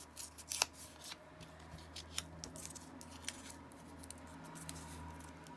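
Paper packaging being torn apart at a desk, heard as faint scattered rips and rustling crinkles, close by and fairly quiet, with no talking.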